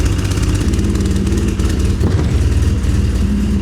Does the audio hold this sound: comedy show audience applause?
no